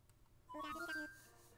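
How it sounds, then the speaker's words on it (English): A short synthesized phone ringtone chimes in the Animal Crossing video game, a brief bright melodic burst of a few layered tones, faint and alone over a quiet background. "phone. Someone's calling."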